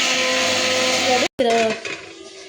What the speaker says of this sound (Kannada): ಇವಾಗ ಒಂದು ಮಿಕ್ಸರ್ ಜಾರ್ಗೆ ಕೊತ್ತಂಬರಿ ಮತ್ತು ಹುರಿದಿಟ್ಕೊಂಡಿರೋಂಥ ಮಸಾಲೆನ ಹಾಕಿ ಚೆನ್ನಾಗಿ ಗ್ರೈಂಡ್ ಮಾಡ್ಕೊಬೇಕು